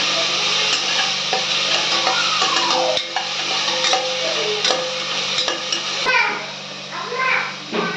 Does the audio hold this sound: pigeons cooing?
no